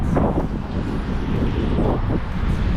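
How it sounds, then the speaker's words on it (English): Wind in Australia roars and buffets the microphone in a steady low rumble, close and loud, with no other clear sound standing out. "It is a beautiful day, a bit windy as you can hear."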